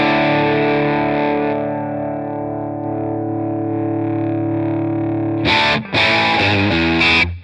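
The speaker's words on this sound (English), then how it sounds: "you can sort of hear that there's a little bit of more clipping going on, a little more gain." Electric guitar through a Lancaster Audio Nobels ODR-1 overdrive plugin set to 8.2 volts, with a long sustained distorted chord ringing out, then a few sharper clipped strums near the end, close and loud.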